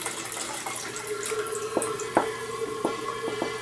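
Berry melomel trickling and dripping into a container through a hand-forced siphon, a faint liquid stream broken by several distinct drips in an irregular rhythm, with no talk.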